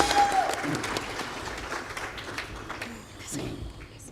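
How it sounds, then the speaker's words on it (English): An audience at a tech conference panel session applauds, steady clapping that is fairly close and gradually tapers off, with a voice speaking faintly over it. "please, a round of applause to our panelists"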